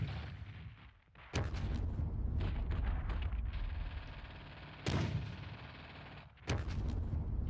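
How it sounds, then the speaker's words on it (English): Mortar fire in the WWII strategy game Squad Battles: Red Victory, Ponyri battle: three loud, booming blasts, each followed by a long, rumbling roar that fills the gaps between them, with no voices. "Let's take this mortar here."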